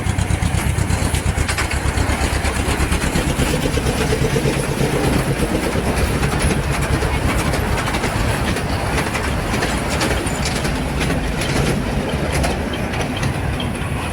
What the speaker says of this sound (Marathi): ही बघा ट्रेन येते आहे।